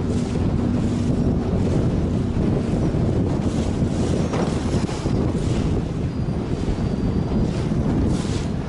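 A small boat motor strains against strong wind on open water, the engine drone buried under loud buffeting wind noise and splashing waves, steady and close throughout with no talk.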